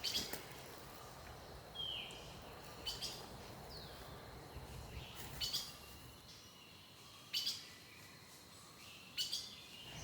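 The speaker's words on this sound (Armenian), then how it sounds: "բնության մեջ այս թռչունների դայլայլը լսելով" Birds chirp and call intermittently in a forest, with short bursts of song spaced every second or two over a soft ambient hiss.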